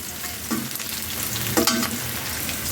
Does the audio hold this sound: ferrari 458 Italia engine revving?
no